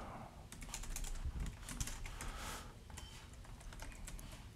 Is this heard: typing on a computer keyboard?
yes